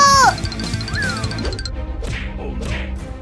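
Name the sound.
cartoon cats meowing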